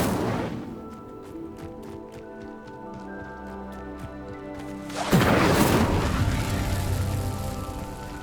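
The Incendio fire spell is cast in Hogwarts Legacy, a sudden roaring whoosh of flame that bursts in midway and sustains loudly, preceded by rain-like crackling ambience and low rumbles.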